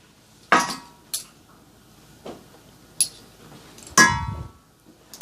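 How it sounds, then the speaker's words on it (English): Spoon scraping and tapping against a bowl while Hershey cocoa powder is added to cake batter, about six separate clinks and clatters spaced unevenly, close and clear. "So now I'm adding 3 tablespoons of cocoa powder"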